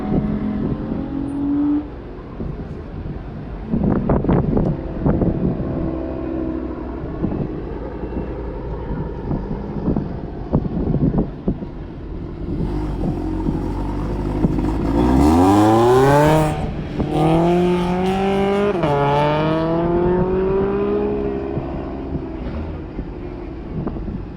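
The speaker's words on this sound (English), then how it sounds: "Kirk out on the track in the Supra as Brownie takes off in the Camry." A Toyota Supra and a Camry launch down a drag strip at Grissom AFB, with engine notes swelling into loud rising revs through several gear pulls, mixed with heavy wind buffeting on the microphone.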